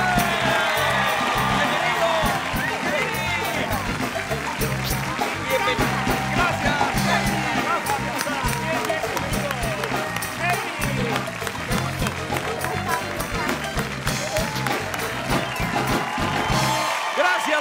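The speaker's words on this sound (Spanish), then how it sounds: "Venga el aplauso para Rafael de la Fuente y Katie Barberi." Studio audience applause and cheering greets guests Rafael de la Fuente and Katie Barberi on a late-night talk show set, a dense, steady roar of clapping and shouts that carries on without a break for nearly the whole stretch.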